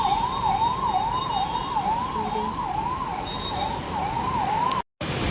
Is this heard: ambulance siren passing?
yes